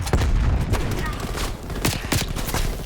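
A Street Sweeper shotgun fires in rapid succession in Call of Duty: Black Ops Cold War, a close, loud string of quick blasts over constant battle noise.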